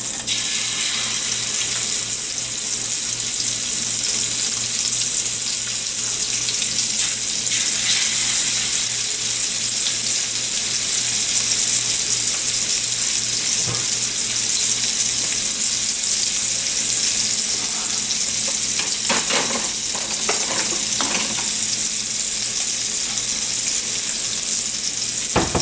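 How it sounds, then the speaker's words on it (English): Tuna steaks fry in a hot pan, giving a steady, loud, close sizzle that runs unbroken throughout with a few brief clinks partway through. "I'll add the tuna now."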